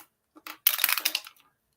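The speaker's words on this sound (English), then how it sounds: "And we'll do another dice roll here." Dice rattle and tumble briefly for a tabletop baseball game, a few light clicks followed by a quick clattering roll up close, with no voices.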